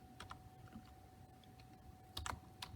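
Quiet keystrokes on a computer keyboard come in a few scattered clicks and a short cluster of taps, close by and faint, over a low steady hum.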